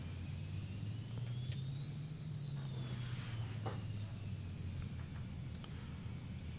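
The engine of an SF50 Vision Jet in Microsoft Flight Simulator whines and rises as the throttle advances, a muffled cockpit roar with a climbing tone that peaks and then settles, steady and moderately quiet, no talking.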